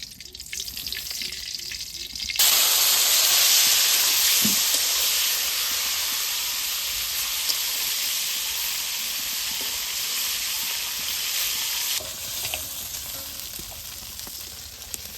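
Oil poured into a hot pan in a village kitchen bursts into a loud, hissing sizzle that holds steady, then drops back to a quieter frying hiss; no one speaks.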